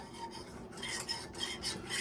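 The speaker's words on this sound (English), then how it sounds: "we're going to go ahead and we're going to stir all that in" A spoon scrapes and rubs flour and butter around a pan in a gluten-free roux, a close, rasping stirring sound in quick repeated strokes, quiet and with no talking.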